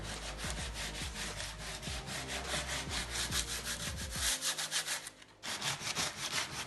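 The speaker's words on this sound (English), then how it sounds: "So I'm just going to sand some of the damage here." Sanding on a solid wood table that is being restored, a steady scratchy rubbing in repeated back-and-forth strokes, loud and close, with a brief break near the end before it picks up again.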